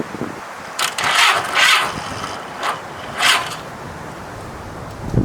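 Starter motor cranking on a 1985 Honda Gold Wing 1200 motorcycle with a bad starter, a few short whirring bursts separated by pauses, fairly loud and close, with no engine catching.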